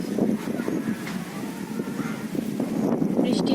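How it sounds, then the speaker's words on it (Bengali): Light wind blowing outdoors under dark clouds just before a rainstorm, a soft continuous rush buffeting the microphone, with a voice talking over it. "সঙ্গে দেখো হালকা কিন্তু বাতাসও আছে"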